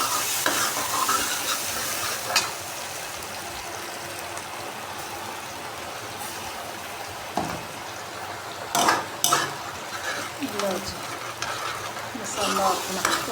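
Spice masala for a white chickpea curry being stir-fried in a pan, a steady sizzle and hiss with intermittent scraping of a spoon against the pan and a few metallic knocks.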